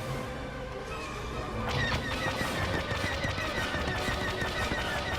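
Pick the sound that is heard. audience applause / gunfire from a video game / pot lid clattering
gunfire from a video game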